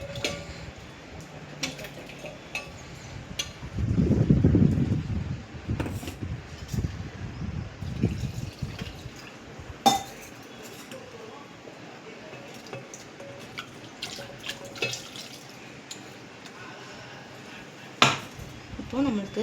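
Fish curry paste is stirred with a little water in a pot, giving wet squishing and scraping with a louder burst of mixing, then scattered clinks and taps against the pot.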